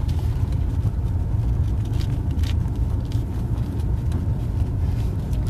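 A 2020 Jetour X70 SUV on a test drive, heard from inside as a steady low road rumble and engine drone throughout, with no voices.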